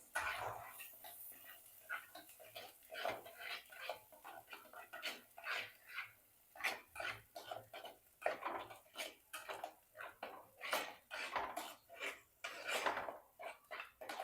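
A spoon scrapes and clinks against a pan as paneer masala and red chilli powder are stirred together for dhaba-style paneer masala, quiet irregular clatters and scrapes in short bursts with no talking.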